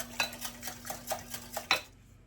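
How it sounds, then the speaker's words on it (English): A whisk beats muffin batter of milk, mayonnaise and melted butter in a bowl, making a quick rhythmic series of about six clinking strokes that ends with one louder tap before falling quiet. "Now I'm going to whisk this all together."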